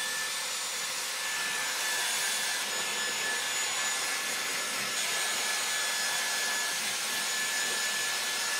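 Dyson Airwrap pre-drying hair, a steady, loud airy rush of blown air running continuously throughout, close by and without pauses.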